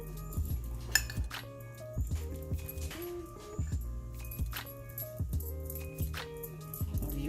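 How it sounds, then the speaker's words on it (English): Mashed bananas are mixed into flour in a bowl, with repeated clinking and rattling of a utensil against the dish at an uneven rhythm, close and moderately quiet. "So I'm mixing that in"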